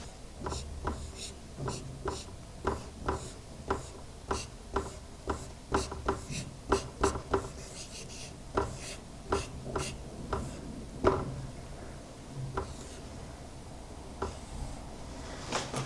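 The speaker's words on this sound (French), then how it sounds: "Donc on va l'écrire ensemble." Words being written on a board by hand: a quiet series of short, rhythmic scratching and tapping strokes, close by, grouped in irregular bursts with brief pauses and no talk.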